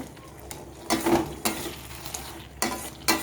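Fried soybean chunks are stirred in a pan for soya chilli, giving a low background sizzle punctuated by several distinct scraping strokes of a spatula at irregular intervals, with no talk.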